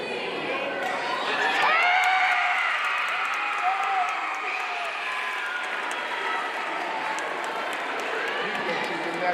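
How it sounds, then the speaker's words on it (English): Audience applause with cheering and whoops at a space talk by a NASA astronaut, a crowd clapping steadily over the whole stretch with excited voices rising above, swelling early and then holding. "Give her a round of applause"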